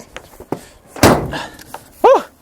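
A 2020 Nissan Frontier PRO-4X tailgate slams shut with one heavy, loud, undamped thud, followed by a brief rattle and a short voice sound.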